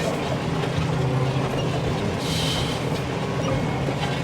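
A New Holland T7.260 tractor engine heard from inside the cab while discing, a steady loud droning rumble with constant mechanical whine and a brief hissing burst midway, no talking.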